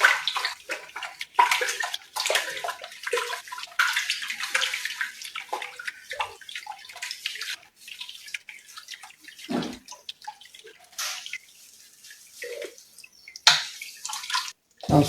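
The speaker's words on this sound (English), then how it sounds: "I'll now pour this into the water and mix." A mixture is poured into water and stirred while making a base cream, giving irregular splashing, dripping and sloshing bursts close by, with brief quiet gaps and no talking.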